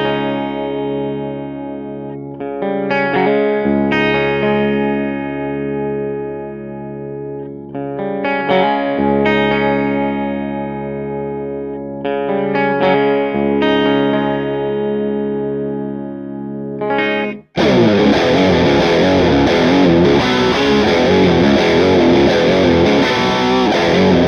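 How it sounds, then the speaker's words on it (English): An electric guitar played through a two-channel tube amp with no effects rings out in clean, sustained picked notes and chords. Near the end it abruptly switches to a louder, dense, distorted section. "I use the sound of my two-channel tube amp, which sounds like this completely dry."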